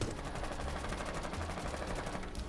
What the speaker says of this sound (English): So if I was to stand up and shoot at this fence